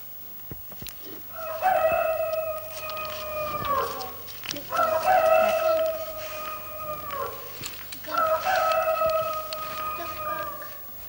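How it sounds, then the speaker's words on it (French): A rooster crows three times in long, drawn-out calls with steady pauses between them, loud and near, against a faint hum. "c'est le chant du coq"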